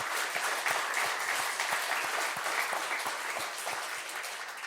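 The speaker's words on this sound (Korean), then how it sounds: "우리 힘차게 격려의 박수 한번 해주시기" A church congregation applauds during a combined Easter worship service, dense steady clapping from many hands filling the room, fairly loud and sustained throughout without fading.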